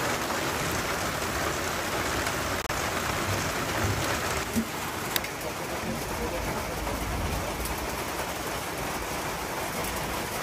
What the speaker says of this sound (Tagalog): nakakaloka, umuulan